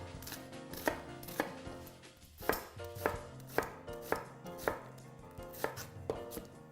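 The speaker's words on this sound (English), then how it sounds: "We're gonna do a rough chop on both." Knife roughly chopping red onion and garlic on a cutting board, about a dozen crisp, evenly spaced thuds, close and clear, with no talking.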